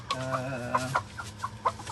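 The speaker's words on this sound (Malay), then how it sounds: "ayam-ayam bertelur" Rhode Island Red hens in a garden coop cluck repeatedly at close range, with short irregular clucks and a drawn-out, wavering call early on, under faint background noise.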